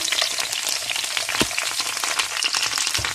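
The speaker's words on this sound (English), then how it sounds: "So I'm going to go ahead and start sauteing the onion." Onion sautéing in olive oil in a skillet crackles and spits steadily up close, with scattered sharp pops and a soft stirring scrape over a continuous frying hiss.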